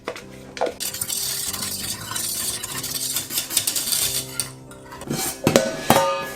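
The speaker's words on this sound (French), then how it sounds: "Ma crème a refroidi. Je vais y incorporer mon coulis de fruits rouges." A spoon or whisk clinks and scrapes against a bowl while thick red fruit coulis is stirred into cooled cream, with continuous rattling strokes and a few brighter knocks toward the end.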